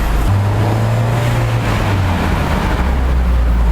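A 2019 Mazda MX-5 RF Club Edition exhaust makes a loud, steady low rumble with a deep droning tone throughout, alone without talk.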